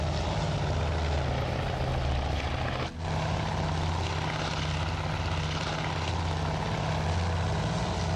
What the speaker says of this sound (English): it looks like some of these fighters are landing